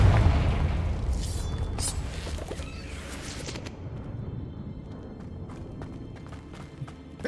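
Confringo spell explosion in the video game Hogwarts Legacy, a loud booming blast at the start that fades into rumbling debris and scattered crackles.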